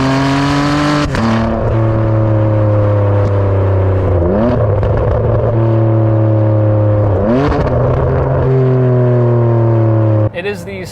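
Ferrari 599 with its Enzo-derived 612-horsepower V12 revving toward 8,500 RPM, loud and close, with strong harmonic engine tones climbing and falling through several rev sweeps and shifts, a voice talking over it.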